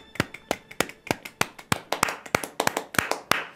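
A single person claps hands alone, about a dozen sharp, distinct claps in a slightly uneven rhythm, close and crisp against a quiet background.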